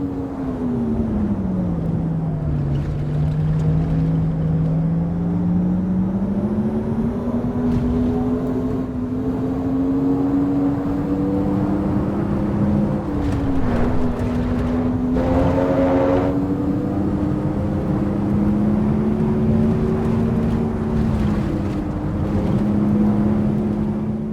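Synthesized onboard motor sound of an Alfa Romeo Junior Elettrica electric car in a racing sim at Bathurst, a steady loud whine rising and falling in pitch with speed through corners and straights, continuous with no talking.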